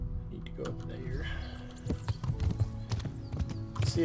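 Horse hooves in Kingdom Come: Deliverance clop in an uneven series of sharp knocks, growing busier toward the end, with a low hum underneath.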